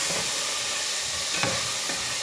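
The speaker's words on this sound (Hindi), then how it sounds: "अभी ये चिकन निकाल के इसको फ्राई कर रही हूँ मैं" Chicken pieces fry in a home kitchen pan, a steady close sizzle and hiss running throughout with a few brief louder bursts.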